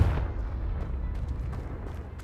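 A fire spell explosion from the video game Hogwarts Legacy, with a deep low rumbling blast that fades into a softer crackling tail, fairly quiet overall.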